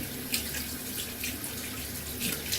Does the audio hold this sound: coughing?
no